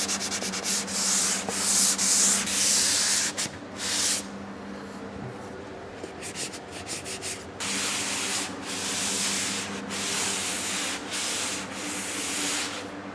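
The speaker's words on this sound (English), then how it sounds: "I'm using this 45-degree sanding block just because it helps kind of get into that corner" Hand sanding a drywall corner with a 45-degree sanding block, a series of close, raspy scraping strokes in bursts with brief pauses between them, no voices.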